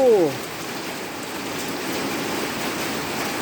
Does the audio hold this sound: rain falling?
yes